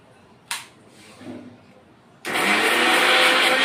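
A kitchen blender starts up and grinds pineapple chutney paste with a loud, dense whirring roar that carries on steadily to the end, preceded by a sharp click and quiet handling sounds.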